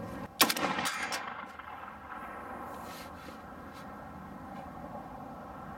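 A burst of AK rifle fire with a milled receiver, shot at steel disc brakes outdoors, comes as a few sharp reports in the opening second and then fades into a long rumbling echo and steady background hiss.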